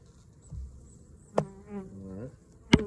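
Honeybees buzz in short, rising and falling bursts close by during a hive inspection, with a couple of sharp knocks from handling a frame in between.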